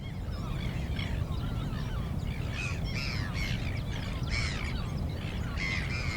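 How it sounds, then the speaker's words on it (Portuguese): Birds call in the African sandveld, a chorus of harsh, repeated caws and squawks over a steady, rough background rumble, with several calls overlapping at a moderate distance. "Os insetos, por sua vez, trazem os pássaros."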